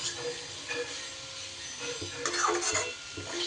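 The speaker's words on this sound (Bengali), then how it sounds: "সুন্দর করে খুব ভালো করে আমি মিশিয়ে নেব" A spoon scrapes and clinks softly in a pan as lentils, potato and soybean chunks are mixed with spices, with quiet, irregular stirring scrapes over a faint background hiss.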